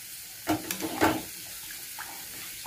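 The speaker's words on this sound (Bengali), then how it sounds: "এবারে মশলা দেওয়া জলটা, কাজু আদা বাটার যে জলটা আছে সেটা একটু দিয়ে দিলাম।" Water mixed with spiced cashew-ginger paste is poured into a hot pan of doi potol. Two short splashing sizzle bursts are followed by a quieter, faint simmer.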